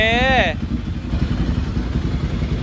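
A 2011 Ducati Monster 795 fitted with an Akrapovic exhaust idles nearby with a steady, deep, throbbing rumble. A voice speaks briefly over the start of the engine sound.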